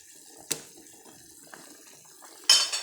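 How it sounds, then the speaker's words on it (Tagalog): Water is poured into a cooking pot of moringa leaves and chili, a short splash near the end after a brief clink of the pot, faint and close. "Konting dagdag ng tubig."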